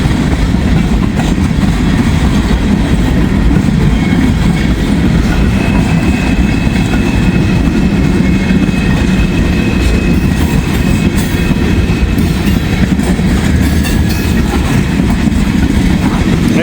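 Long freight train hauling potash cars, many of them empty, rolls past at close range with a loud continuous rumble and rhythmic clickety-clack of wheels over rail joints.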